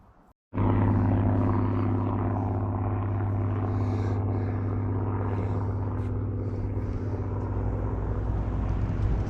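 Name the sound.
Spitfire Merlin engine aircraft flying over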